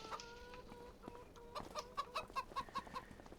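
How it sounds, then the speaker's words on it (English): Chickens clucking nearby in a coop, a quick run of rhythmic clucks with a few higher calls, heard alone and fairly faint. "I don't want my chickens out."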